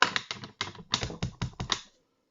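An Emerald Envy ink stamp is tapped onto a paper tag while card-making with a Paper Pumpkin kit, giving about eight quick, crisp taps close up in an uneven rhythm with no talking.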